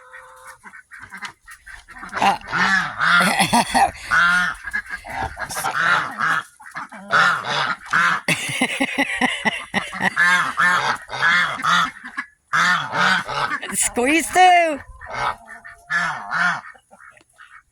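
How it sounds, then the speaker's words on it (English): Ducks and geese honk and quack loudly at their duck house, a dense, continuous chorus of overlapping calls close by, with a brief break near the end before a final burst. A person speaks briefly. "That's the duck house. They're letting you know that's their house."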